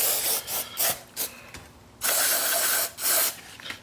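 Penetrating fluid sprayed from an aerosol can onto a gummy old carburetor on a 1926 Oakland car, several close, loud hissing bursts of varying length separated by short pauses, with no talking.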